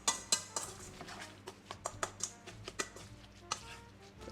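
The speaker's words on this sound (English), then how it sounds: "let's just mix this together so we can get all the seasonings to marry" Spoon scraping and clinking in a bowl while seasonings are mixed into ground beef, a quick irregular series of sharp close taps and scrapes with no talk.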